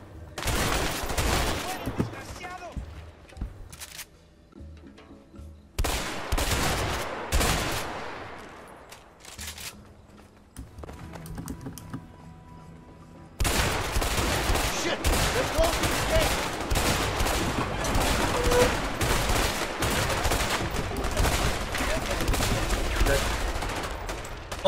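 Heavy bursts of gunfire from a jungle shootout in the video game A Way Out, loud, dense volleys broken by brief lulls, then a sustained barrage; voices talk over parts of it.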